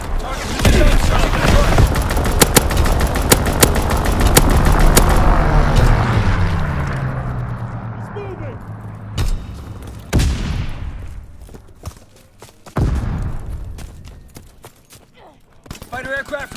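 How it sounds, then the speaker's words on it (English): An artillery strike and gunfire in Call of Duty: WWII, Shipment 1944 map in domination mode: loud rolling fusillades and booms early on, then scattered sharp bursts fading, with voices speaking over the battle. "Firing division artillery. Target position strike."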